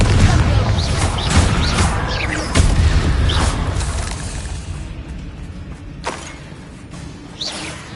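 Explosive blasts of the Confringo spell in the video game Hogwarts Legacy go off several times, loud and booming with crashing debris and whooshes, fading into quieter rumbles with a few later bursts.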